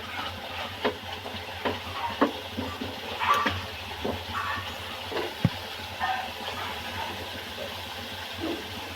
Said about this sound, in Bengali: এখন মাছটা ছেড়ে দেবেন টক দই মাখানো মাছটা